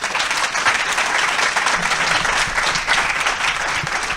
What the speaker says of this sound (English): show of hands by applause.